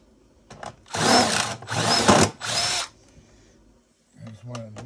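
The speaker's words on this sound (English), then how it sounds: "you're going to take your drill and your CRVT10 bit and just get rid of all the screws" A power drill fitted with a CRVT10 bit backs screws out of electronics for e-waste recycling: three loud, close whirring bursts in quick succession, then a pause and a shorter spin. A voice is briefly heard.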